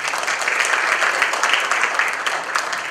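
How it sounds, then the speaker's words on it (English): Audience at a banquet breaking into steady applause, a dense continuous patter of many hands clapping at close range throughout, with no speech over it. "So why don't we give you an applause"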